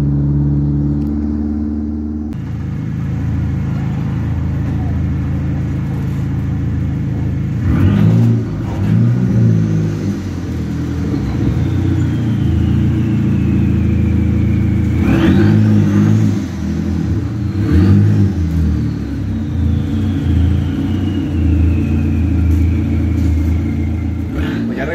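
A Dodge Neon SRT-4 engine swap with an HKS blow-off valve idles with a steady rumble, then revs several times. Each rev ends in a sharp whooshing discharge from the valve, fairly close and loud.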